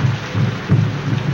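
Steady rain falls outside, in a 1932 film scene, as a constant dense hiss with a low rumble underneath and a brief louder swell midway, with no voices.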